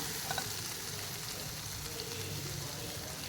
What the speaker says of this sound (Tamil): அடுப்பு நல்லா ஹை ஃப்ளேமில் வச்சுட்டு பக்கத்துலேருந்து கொஞ்சம் கிண்டி கொடுங்க